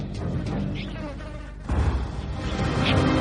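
Flies and other insects buzz around overripe, fermenting fruit and rotting food. The droning is steady and fairly loud, swelling a little partway through, with no voices.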